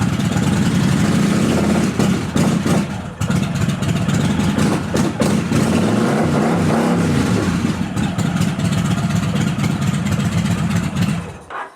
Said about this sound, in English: Sounds just how a bike should sound.